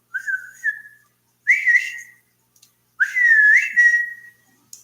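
A person whistles three separate times to call a dog, clear rising and sustained notes with short silent gaps between, close and alone without talk.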